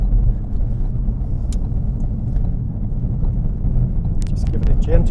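A Ford Focus RS in second gear with gentle throttle around a roundabout, a steady low engine drone and road rumble from inside the cabin, with faint background sounds near the end.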